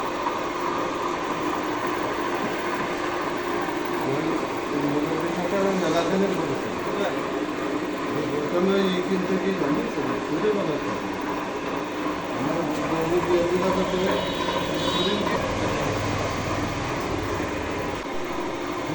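A four-roller factory machine at a market in Noapara, Jessore, running steadily with a loud, continuous mechanical roar and rumble throughout, faint voices beneath it.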